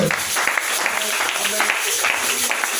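A church congregation claps steadily in praise, a dense, even patter of many hands filling the room, with voices mixed in under the applause.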